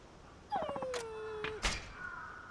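A dog whimpers in the video game Like a Dragon: Ishin!, giving a brief descending whine followed by a few short yelps and a faint trailing whimper, close and alone with no talk.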